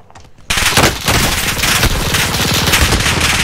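Rapid automatic gunfire from enemies in a first-person shooter, bursting in loud and sustained after a brief quiet start, with dense overlapping shots and no talk.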